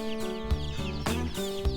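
Kenyan traditional chickens clucking on a farm, a few short bursts of clucks rising over steady background noise and a droning tone.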